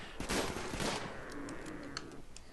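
Gunfire in the video game Rimworld Alpha 12, a rapid burst of close shots at first followed by a few scattered, fainter pops.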